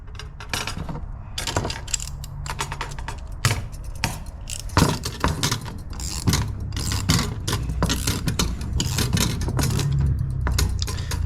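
A hand tool tightens the backpressure sensor line on a turbocharged LS engine, giving loud, close metallic ratcheting and scraping in repeated bursts with no talking.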